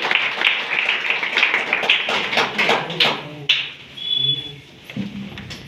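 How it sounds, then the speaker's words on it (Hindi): Audience clapping for a speaker at a business meeting, a dense burst of claps for the first few seconds that thins into scattered claps and fades, with voices murmuring alongside. "एक बार भैया के लिए जबरदस्त ताली बजाइए"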